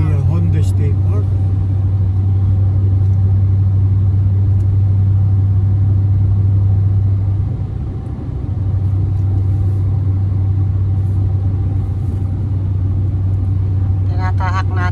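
A car drives south on Highway 1 toward Key West, Florida, with a steady, heavy road and engine rumble heard from inside the cabin, a brief dip midway, and a voice talking over it.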